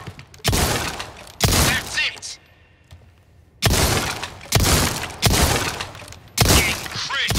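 Gunfire rings out at the Resident Evil 4 shooting range, with loud bursts of rapid shots in several clusters and brief quiet pauses between them. Game voice lines come in between the volleys.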